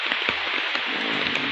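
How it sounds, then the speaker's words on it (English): Heavy non-stop downpour in Paynesville, a dense, steady roar of rain hitting surfaces with scattered louder drops, close and continuous with no voices. "It's been raining since last evening,"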